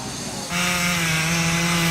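A chainsaw felling a large tree revs up from a low idle into a loud, steady high-pitched buzz, close by and alone.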